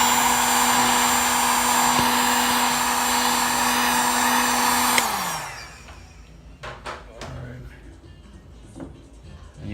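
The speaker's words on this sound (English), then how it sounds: "Then you want to set it down and then take your heat gun." Heat gun blowing a loud, steady roar as it shrinks wrap onto an 18650 battery pack, running for about five seconds before winding down and cutting off, followed by faint handling clicks.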